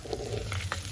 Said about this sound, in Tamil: செத்தல் மிளகாய் கருவேப்பிலை எல்லாம் போட்டு தாளிச்சு கொண்டிருக்கிறார்